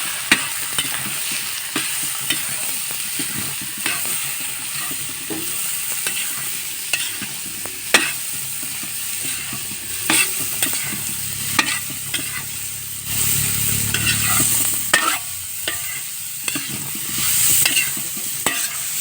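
Pork sizzling and being stirred in a hot pan with garlic and onion for pork menudo, a continuous crackling fry broken by scraping spatula strokes and clatters, close and fairly loud with no talking.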